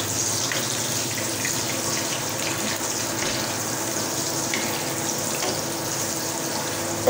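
Coarsely chopped onions fry in white oil in a frying pan for a mugdal beef dish, giving a steady close hiss with light stirring scrapes, continuous and fairly loud, no talking.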